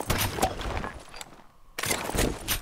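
Gunfire in a shooting video game: sharp bursts of shots in quick clusters, loud and close, broken by a brief near-silent gap before another volley.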